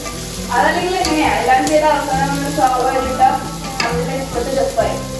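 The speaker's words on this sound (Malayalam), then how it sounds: "അപ്പൊ ഞാൻ ഞാനൊന്ന് ഇളക്കി കൊടുക്കാം." Chicken biryani, Chettinad style, frying in a compact pot as it is stirred, with close scraping and sizzling under a man's speech.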